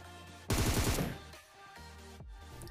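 Gunfire in the PUBG video game: a sudden loud burst of rapid shots lasts about a second, then fades into quieter game sounds with a smaller thump near the end.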